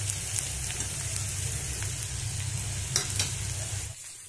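Chicken and noodles frying over a medium flame while being stirred in a pan, a dense close sizzle with faint scraping, holding steady before cutting out near the end, with no voices.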